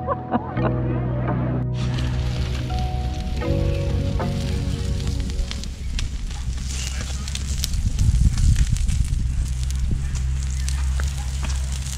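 Steak sizzling over a campground cooking fire by a lake, a steady loud crackle and hiss that runs throughout with no voices.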